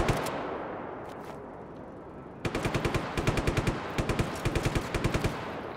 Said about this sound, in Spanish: ¿Quién me está disparando?